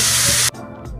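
Soy sauce hits a hot pan of chicken sauteed with garlic and onion, a loud, close burst of sizzling spray that cuts off abruptly after half a second, leaving a softer crackle.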